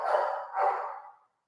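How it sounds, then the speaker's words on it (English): A pet dog barks at another dog being walked outside, giving two loud, close bursts about half a second apart that trail off within about a second and a half. "nothing makes my dog madder than seeing another dog getting a walk when she's not getting a walk. That's why she's barking."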